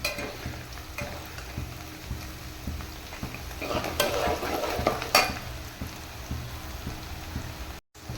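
Onions sauté in a pan for a river jilabi fish curry, giving a continuous soft sizzle with occasional stirring scrapes heard close by.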